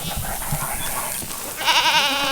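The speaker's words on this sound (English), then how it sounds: "Hey, goats." Goats on a farm bleat a few times at moderate distance, one clear wavering call standing out near the end over steady background noise.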